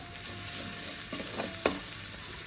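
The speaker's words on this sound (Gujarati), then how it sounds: "અને હવે આપણે આ જે પેસ્ટ છે એને 1 મિનિટ માટે સાંતળી લઈશું, જેથી આદુ મરચાં લસણ છે કાચા ન રહી જાય." Ginger, chilli and garlic paste sautés in a pan with a soft steady sizzle, a few stirring scrapes and one sharp clink of the spoon against the pan.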